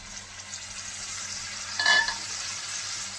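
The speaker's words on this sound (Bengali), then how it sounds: "ভেজে রাখা মাংসের টুকরোগুলো দিয়ে দিচ্ছি" Fried chicken pieces go into a pan of spiced garlic chicken gravy and get stirred, a soft continuous sizzle broken by one louder scraping stir in the middle, close by and free of speech.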